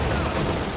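A 222 armored car opening fire in a World War II strategy video game, a short, dense burst of rapid automatic gunfire over battle noise.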